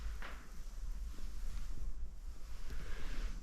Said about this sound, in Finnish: Ja sitten on tuuli puhaltaa.